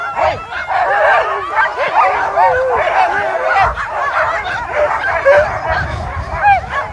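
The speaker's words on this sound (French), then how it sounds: "Là, ils ont envie de partir, les chiens, je vous dis pas." Sled dogs in harness at the start of a race in Chasseradès bark, yip and whine excitedly in a dense, continuous chorus of many overlapping voices, close and loud throughout.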